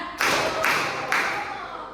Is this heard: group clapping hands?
yes